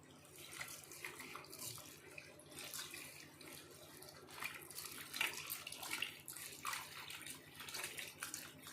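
Tap water runs into a sink while greens are rinsed by hand, a soft, continuous splash with irregular bursts of sloshing as the leaves are moved.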